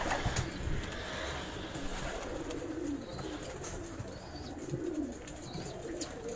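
Pigeons, Karachi high-flyers, coo in soft repeated calls over a low, continuous background, with occasional faint chirps.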